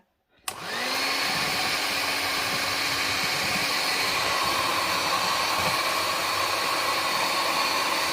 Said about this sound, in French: Donc maintenant, je vais mixer.